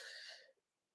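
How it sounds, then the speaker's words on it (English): A single short, breathy cough from an adult, close and fairly faint, fading out within half a second into quiet. "A bit of a cough."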